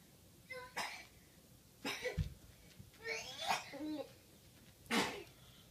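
A few sharp bursts of sneezing from a man, close by, with a voice chattering in between while shopping.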